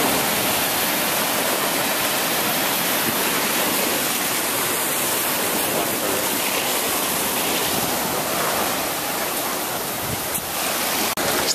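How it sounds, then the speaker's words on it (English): Ocean surf at La Jolla's original public beach, a loud, continuous broadband wash of waves breaking and rushing nearby, steady for the whole stretch with no talking. "This was the original La Jolla public beach."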